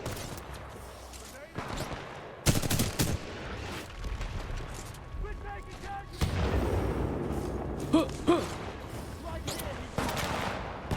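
Gunfire in Titanfall 2: bursts of rapid shots and heavier booming blasts come in uneven clusters, close and loud, with someone talking over parts of the action.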